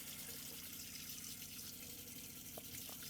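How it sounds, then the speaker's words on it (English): Water running steadily from a tap in a 2024 Chausson 650 Etape Line motorhome, the pressurised pump feeding the hot water system, a continuous close hiss and gurgle with a faint low pump hum underneath throughout. "this just shows that the hot water system is working as the pump's pressurised"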